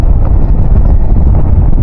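Strong wind buffets the microphone in a low, continuous roar outdoors in Czechia, loud and unbroken with no voices over it.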